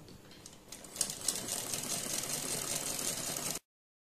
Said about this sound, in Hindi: और इस तरह से पूरे गले पर हमें सिलाई लगानी है।